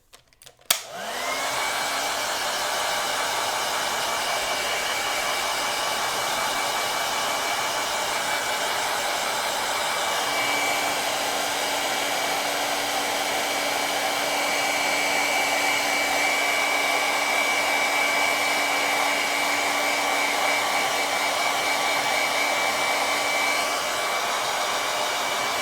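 A hair dryer blows a steady, loud whirring hum for nearly half a minute while drying paint on an artwork, with a faint shift in pitch partway through.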